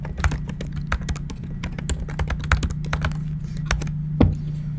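Rapid, uneven clicking of a computer keyboard as a line of code is typed, the close key taps running in quick bursts over a steady low hum.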